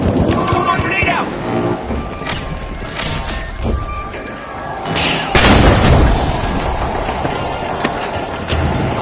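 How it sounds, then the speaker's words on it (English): A grenade explosion from the game The Finals goes off as a loud boom in the middle of a busy match, among gunfire, impacts and a commentator's voice. "Throw my grenade out!"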